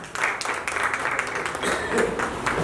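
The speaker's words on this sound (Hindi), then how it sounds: "जोरदार तालियों के साथ।" Audience applause at a birthday celebration for a residents' welfare association president, a crowd of clapping hands with distinct sharp claps standing out, steady and moderately loud.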